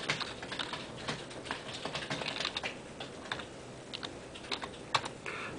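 Rapid, uneven clicking of keys on a computer keyboard as a search term is typed, close and clear with no voice over it.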